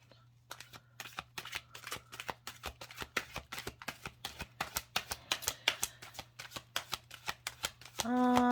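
A deck of tarot cards is shuffled close by in a long run of quick riffling snaps, faint and steady, before a brief burst of other noise at the very end.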